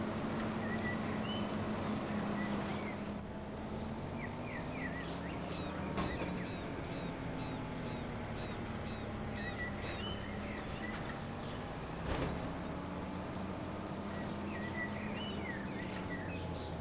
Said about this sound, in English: it's amazing listening to the sounds, the ambience in this game, the birds